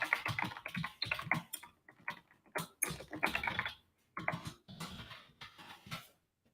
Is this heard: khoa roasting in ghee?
no